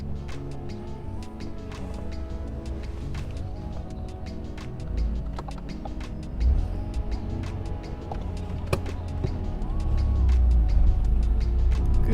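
Car pulling away in first gear during a mock driving test, a close interior engine hum that rises into a louder, deeper rev toward the end, heard from inside the cabin with light clicks and no talking.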